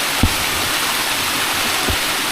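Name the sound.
flowing water, stream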